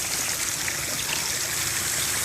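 Water from a homemade PVC pipe skimmer return flows back into a backyard swimming pool. A steady, close trickling rush continues without a break and carries no speech.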